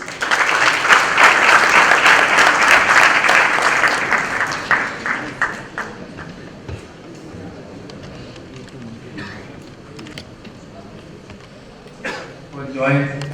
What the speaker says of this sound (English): Please welcome Mr. Suresh Prabhu with a huge round of applause.